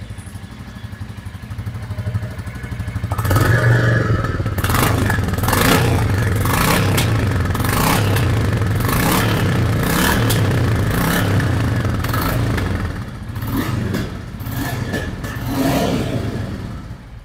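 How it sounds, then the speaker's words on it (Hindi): A 2024 Royal Enfield Bullet 350 single-cylinder motorcycle idles with a low thump, then its exhaust is revved into a loud, sustained roar held close by, easing and rising again near the end. "तो इनिशियल स्टेज में इसका साउंड सुन सकते हैं बाकी इसमें थोड़ा सा रेस लेते हैं"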